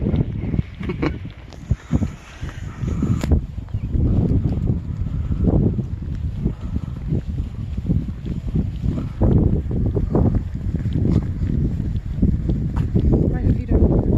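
Strong wind buffets the microphone outdoors in Iceland, a continuous loud low rumble with gusty surges, while people talk over it throughout.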